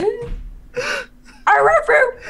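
A dog barks and yelps close by, in a few loud bursts with short gaps between them and a breathy, moaning sound mixed in.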